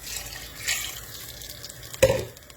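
Water is poured into a pot of red-colored oil and tomato base for Senegalese thiéboudienne, a soft trickling splash with a brief louder gush near the end.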